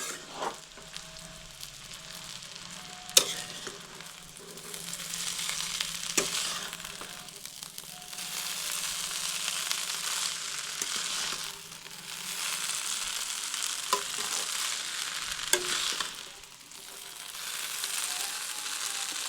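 Street-style chowmein noodles with fried egg and salt are stirred and tossed in a pan, giving a steady soft sizzle with rhythmic scraping swells and occasional sharp utensil clicks.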